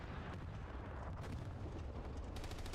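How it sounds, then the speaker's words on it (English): Explosions and gunfire crackle in a competitive online video game match, a dense rumbling barrage of blasts and sharp bursts heard at a distance and fairly quiet, with no talk over it. "It looked like maybe that was just a late explosion."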